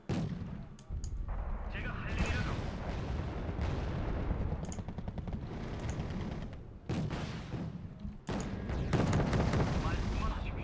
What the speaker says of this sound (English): Beautiful autocannon.